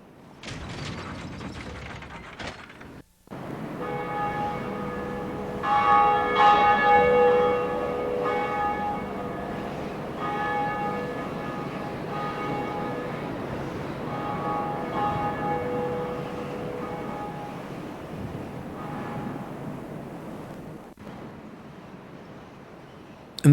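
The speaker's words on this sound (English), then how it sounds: "and then you get to hit the bell" A church bell struck in Dark Souls' Undead Church rings out with a sustained metallic tone, layered over a mechanical ratcheting and grinding of gears that runs for most of the stretch, with no talking.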